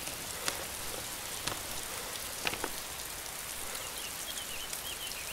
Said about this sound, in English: This rain is not doing my frames any good right now.